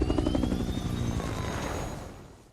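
A helicopter's rotor chops loudly with a fast pulsing thump and whining engine, close by, gradually fading away toward the end.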